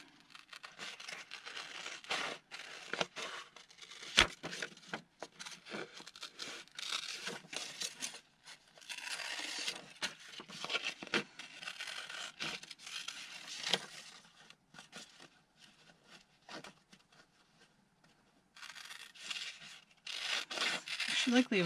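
Paper ephemera being fussy cut with scissors, giving close, irregular crinkling and snipping rustles, louder in bursts with brief quiet gaps.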